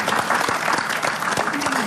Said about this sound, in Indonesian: Tepuk tangan buat Ibu Irma